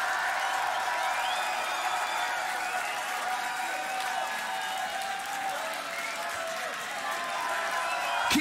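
Large audience applauding at a Grand Beatbox Battle 2019 event, dense steady clapping mixed with crowd noise and cheers throughout, loud and sustained without a break.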